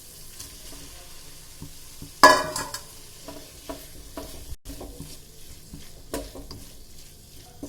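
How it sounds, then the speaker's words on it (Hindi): Mushrooms and capsicum drop into a simmering chilli gravy, setting off a sudden loud sizzle, then softer spoon stirring and scraping against the pan over a low, continuous frying hiss. "अब मैं इसमें ऐड करूंगी मशरूम और शिमला मिर्च"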